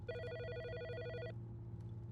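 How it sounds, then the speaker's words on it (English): A telephone rings in the video game Autopsy Simulator, set in a pathologist's morgue office: one clear electronic ring burst of about a second, then faint room sounds. "Pick up the phone."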